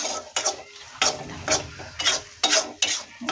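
A brinjal and potato curry is fried in a pan, with a steady low sizzle under quick, rhythmic scraping and clinking strokes of a spatula, about one every half second, heard up close.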